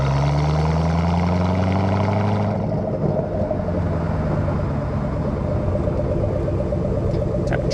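A 2007 Ford Mustang Shelby GT500 engine rises in pitch as it accelerates, then shifts and keeps pulling with a loud, steady, close-up drone and rumble inside the car.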